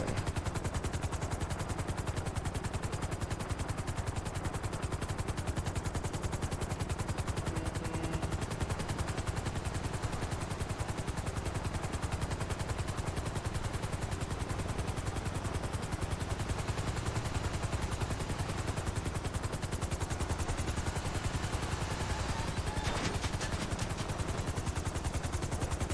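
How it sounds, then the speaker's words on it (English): Rapid gunfire strikes a helicopter in GTA Online over a continuous loud rotor and engine roar, forming a dense unbroken wash of noise with no speech. "They hit my helicopter"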